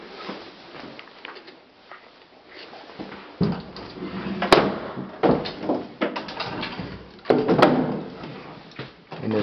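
A house door opens into a spacious three-car garage in a Boise home, with soft handling thumps, a latch click and scraping movement that grow louder toward the end.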